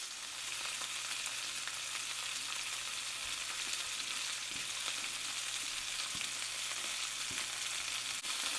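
Beef stew meat searing in a hot pan for a slow cooker stew, a steady loud sizzle with faint crackles and a low hum underneath, continuous and close with no voices.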